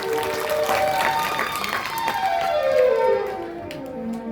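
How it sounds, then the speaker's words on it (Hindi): Audience clapping loudly at a Ram Katha religious gathering in Saraiya Mohanpur, a dense steady applause that swells and holds for several seconds, with musical tones ringing underneath. "एक बार इनके लिए भी मीठी मीठी जोरदार ताली हो जाए।"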